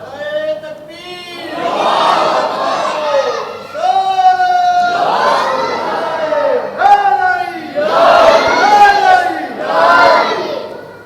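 A large crowd at a religious gathering shouts slogans in unison, several loud rhythmic chanted calls with brief pauses between them, rising and falling together.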